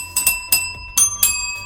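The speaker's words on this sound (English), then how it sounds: "I'm going to need to borrow the bell that's going out to one of my patrons" A small hand bell struck repeatedly, four or five bright metallic rings in an uneven rhythm, each with a short shimmering decay, close and clear with no talk.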